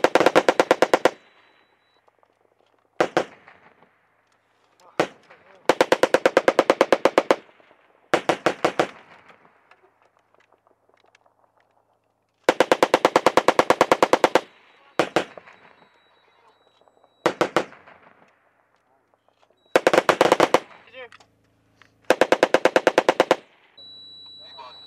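Machine gun fire from US Marines at Kajaki, Helmand, Afghanistan comes in loud, close bursts of rapid shots, several long strings and single short volleys separated by quiet gaps and faint echoes.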